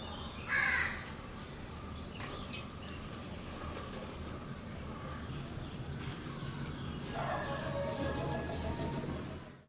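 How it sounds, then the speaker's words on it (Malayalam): Several crows caw in short bursts at a moderate distance over a steady outdoor background hum, in Muvattupuzha, Kerala. "ആകാശത്തുനിന്ന് കൂട്ടത്തോടെ പറന്നുറങ്ങുന്ന കാക്കകൾ"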